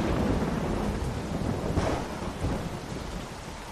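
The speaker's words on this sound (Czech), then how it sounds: "Je teda slušná bouřka." Thunderstorm in The Walking Dead video game: a steady wash of heavy rain with a low rolling rumble of thunder swelling midway, loud and continuous, no voices.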